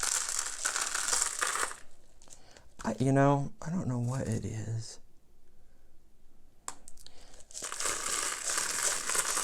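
Crushed glass for a thick silver paint pour is handled at close range, a crinkly, gritty crunching and rattling that comes in bursts at the start and end, with a voice talking briefly in the middle.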